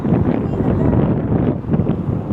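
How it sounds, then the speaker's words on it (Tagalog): Strong wind gusts buffet the microphone in a constant low roar, rising and falling outdoors in Iloilo, Philippines, with no speech. "Dito, presko hangin. Mahangin."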